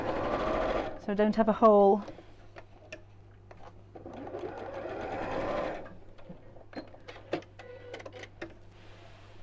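A sewing machine stitching fabric during a live half-yard sewing session, with short whirring runs of rapid mechanical stitching close by and someone talking over and between the bursts.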